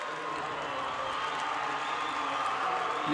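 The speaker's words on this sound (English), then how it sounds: "Millett leaves to a standing ovation from the Parowan crowd." A basketball crowd at a 2A boys championship game between Parowan and Kanab gives a standing ovation, a sustained wash of applause and cheering heard from within the gym, steady throughout.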